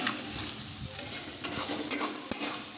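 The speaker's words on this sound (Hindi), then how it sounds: "देख सकते हैं फ्रेंड्स अभी पूरा मसाला को भून रहे हैं हम।" Spice masala for a Bihari fish curry sizzles and fries in a pan, with a close, continuous crackle broken by a few scraping stirs of a spoon.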